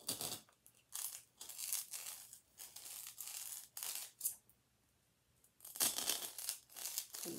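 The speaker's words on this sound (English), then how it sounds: "I'm going to poke a larger hole with my scissors." Scissors poking and twisting a hole into a handmade doll, a series of close, quiet crunching and scraping bursts in irregular rhythm, separated by short pauses and one longer silence.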